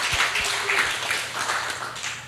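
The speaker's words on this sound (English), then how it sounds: "I just want to applaud you in person." A church congregation claps in a soft, steady patter, with the applause fading gradually and no voices over it.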